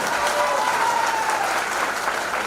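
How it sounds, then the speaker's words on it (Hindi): An audience at a Mumbai event gives loud, sustained applause welcoming the host, a dense continuous wash of clapping with a faint tonal whistle-like line riding over it. "एक बार जोरदार तालियों के साथ हमारे संचालक महोदय जी का आप सभी लोग स्वागत करेंगे"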